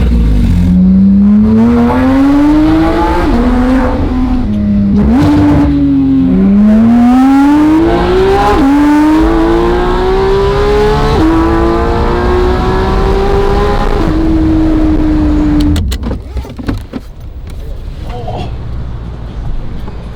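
Porsche 991.2 GT3 RS with a newly installed exhaust revs hard in a series of rising, howling pulls, each climbing in pitch before dropping back, then a long held rev that cuts off into crackles and pops, very loud and close.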